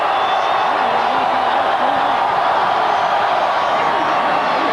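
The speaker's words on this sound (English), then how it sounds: "listen to this crowd, Tim" Roaring college football stadium crowd at an Auburn Tigers versus Ole Miss Rebels game, a dense, steady wash of cheering and shouting that fills the whole clip with no pauses.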